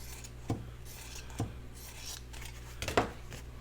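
Scissors roughly cutting fabric for a craft tag, three separate quiet snips against a faint background.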